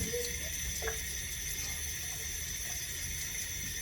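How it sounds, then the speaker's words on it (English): Tap water runs steadily into a pot being filled to cook homemade semolina and amaranth pasta, a continuous hiss of moderate loudness with no talking. "I'm going to add water to it, and that's what I'm going to cook it in."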